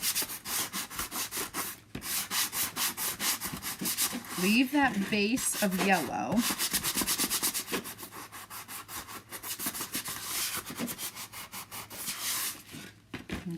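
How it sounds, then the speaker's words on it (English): Hand sanding of a wooden surface during a chalk craft project, a quick rhythmic scratchy rubbing close by, with a brief spoken remark in the middle. "could have helped myself out by sanding it a little"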